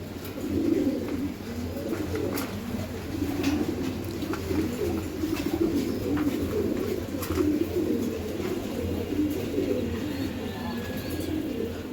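Pigeons coo in a steady, low, overlapping murmur at a pigeon farm housing highflyer and racer breeds, with faint chirps and small clicks scattered throughout at moderate distance.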